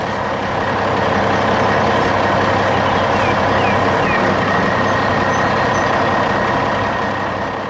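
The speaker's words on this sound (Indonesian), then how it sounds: "Truk itu kini bergerak pergi, membawa beban berat dengan penuh tekad." A heavy, loaded truck rumbles steadily on a quiet mountain road, its deep, continuous engine drone holding loud throughout before easing slightly at the very end.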